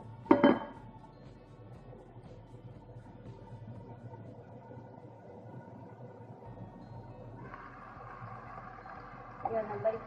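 A lid is set on a cooking pot of chicken adobo, first with a loud metallic clank and then with a steady low sizzle and bubbling. A lighter clatter of metal follows near the end.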